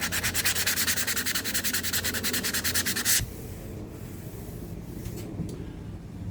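Small wooden pieces are scuffed by hand with sandpaper in a fast, even rhythm of loud rubbing strokes for about three seconds, then they stop, leaving quiet room noise and a few faint knocks.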